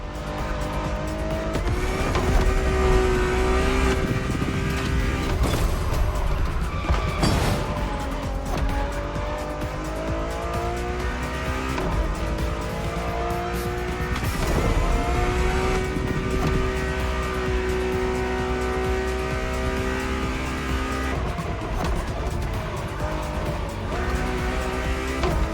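A Ferrari driven in the racing game The Crew Motorfest, its engine revving up and down through gear changes with loud, sustained tire squeal as it corners, continuous and close with no talk.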